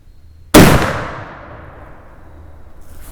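A single loud black powder muzzleloader rifle shot booms close by, with a sharp blast followed by a long, rolling decay of echo over a couple of seconds.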